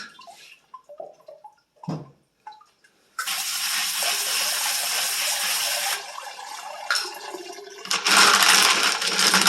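Small tumbled rocks are tipped back into a rock tumbler barrel, with scattered clinks and knocks, then a long loud rushing clatter of stones and water pouring in, close up with no talking.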